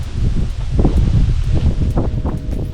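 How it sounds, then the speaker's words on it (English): Strong wind buffets the microphone outdoors on a disc golf course, a loud continuous low roar with gusty surges and rustling throughout. "A lot of wind."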